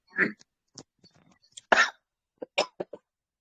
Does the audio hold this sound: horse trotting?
no